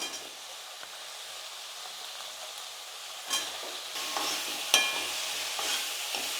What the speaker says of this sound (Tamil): ஒரு ரெண்டு நிமிஷத்துக்கு வந்து இந்த எண்ணெயிலேயே முருங்கைக்காய் வந்து நல்லா வதங்கட்டும்